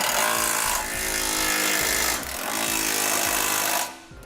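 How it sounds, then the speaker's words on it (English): A 19mm socket on a power impact tool tightens trailer hitch bolts, giving a loud buzzing rattle in three sustained bursts with brief dips between them. It trails off at the end. "now we'll use a 19mm socket or a 3/4 inch socket to tighten up our hardware"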